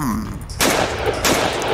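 Loud double-barrel shotgun blasts in a Roblox war game, two heavy booming shots about half a second apart, each with a long rumbling tail and no talking.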